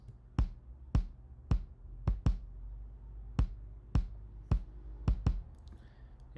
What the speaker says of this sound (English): And this is the Addictive Drums Vintage Dry Natural Punch preset